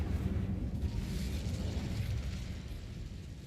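An Incendio fire spell blast in Hogwarts Legacy, inside a closed mine, a steady roaring, crackling burst of flame that stays loud and then slowly fades, with no talking.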